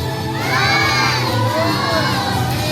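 A crowd of children at a magic show shouting and cheering together, loud and sustained, with overlapping high-pitched voices filling the whole stretch.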